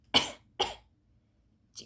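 Two sharp, close coughs in quick succession, then a brief third one after a short pause.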